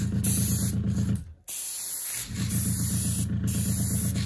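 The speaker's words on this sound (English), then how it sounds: "I'll go ahead and paint the chassis and wheels so I can at least get this much started. I'm just airbrushing that with some" An airbrush sprays black paint onto a model 2-8-4 locomotive's chassis and wheels in a steady close hiss, which stops briefly and then resumes.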